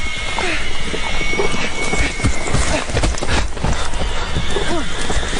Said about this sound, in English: My horse is stuck.